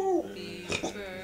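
A pet dog singing along to Happy Birthday, giving a short high whimpering yip and whine, close and brief, with a person's voice overlapping.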